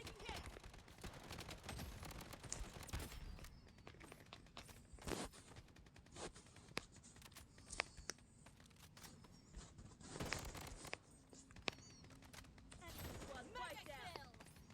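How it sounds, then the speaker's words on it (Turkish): Gunfire in the shooter game BloodStrike, with scattered bursts and single shots at moderate distance, plus a few sharper cracks and footsteps, while players talk over the action. "Bu arada biri hala sıkıyor."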